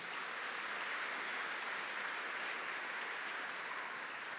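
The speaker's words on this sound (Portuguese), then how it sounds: "Dê mais um forte aplauso" A church congregation applauds in a steady, even wash of clapping, fairly faint and distant, with no voices over it.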